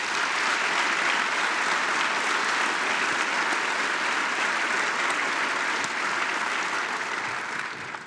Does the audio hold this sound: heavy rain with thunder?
no